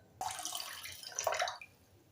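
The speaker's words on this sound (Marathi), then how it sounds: "दुप्पट तिप्पट पाणी ओतायचं" Water poured into a container of washed mung beans set to soak, a short close splashing pour lasting about a second and a half, alone and fairly quiet.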